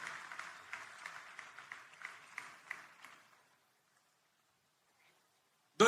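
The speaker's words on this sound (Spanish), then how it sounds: "Let's give a hand of applause to the Lord." Audience clapping at a church gospel workshop, a steady distant patter of many hands fading out over a few seconds into near silence before a sudden loud thump at the end.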